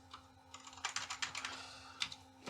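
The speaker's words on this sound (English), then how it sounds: "Let's see if I can type, if the keyboard is working." Keys clacking on the keyboard of a 1990 Macintosh Classic, a burst of about a dozen quick, close keystrokes in an uneven rhythm with a final isolated press, no talking.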